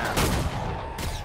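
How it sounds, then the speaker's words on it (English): Heavy shotgun blasts in Killing Floor 2, two booming shots roughly a second apart, loud and close. "I'm watching you shoot them. I got a shotgun."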